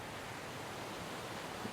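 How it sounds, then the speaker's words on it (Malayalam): Steady broadband rush of water from a waterfall inside a forest, continuous and fairly even throughout with no voices. "വെള്ളച്ചാട്ടം ഇങ്ങനെ പോകും"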